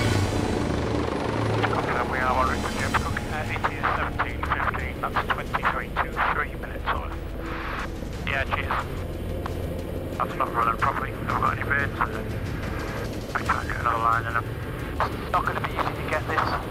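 Helicopter rotor and engine drone steadily throughout, loud and close as if heard from inside the cabin of a medical transport flight, with people talking over it.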